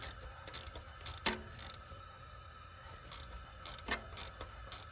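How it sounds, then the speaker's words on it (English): A ratchet wrench turns down a valve spring compressor on an LS engine during a valve spring upgrade, giving bursts of sharp ratcheting clicks separated by short pauses, close and clear with no talk. "So it seems like a ratchet wrench is about the best tool for this."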